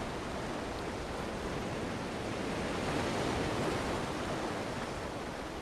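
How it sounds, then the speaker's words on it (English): Ocean waves washing onto a beach in Ecuador, a continuous broad rushing roar of surf that swells slightly midway, steady and full with no voices. "Relax while you're listening to the sound of the waves."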